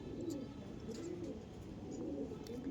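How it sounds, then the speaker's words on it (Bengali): Male and female Andhra pigeons coo in a loft, faint, low, rolling calls repeating softly at a distance. "এটা ফিমেল পায়রা, এটা মেল পায়রা"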